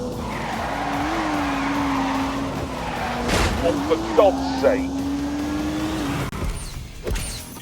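Race car drifting and skidding around a twisty test track, tyres squealing in a sustained whine with sharper squeals mid-way, engine droning underneath while someone shouts in exasperation over it.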